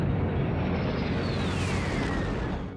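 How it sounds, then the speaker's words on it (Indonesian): A massive explosion of an atmosphere processor in the film Aliens roars in a continuous, deep rumble that fills the whole stretch, loud and sustained before easing slightly at the end. "gak lama kemudian mesin atmosfer itu meledak"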